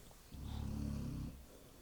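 A dog snores once, a single low rasping breath of about a second rising out of a quiet room and fading again, heard close and soft.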